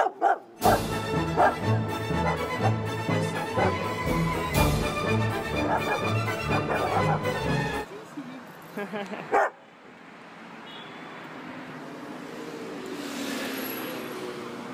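Dog being trained not to bark at people, loud repeated close barks and yips through the first half, then quieter background noise, with a person talking.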